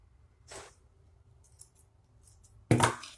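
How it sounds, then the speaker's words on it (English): Scissors snip through a plastic necklace string during a kids' jewelry craft, heard as two quiet, brief cuts in a near-silent room, the second louder and sharper. "And then cut your string."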